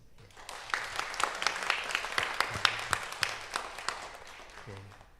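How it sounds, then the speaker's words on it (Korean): Church congregation at a Korean Sunday worship service claps for members completing a discipleship course, a moderately quiet, fairly sparse ripple of hand claps lasting several seconds, with a few low voices murmuring underneath. "박수 한번 해주시죠."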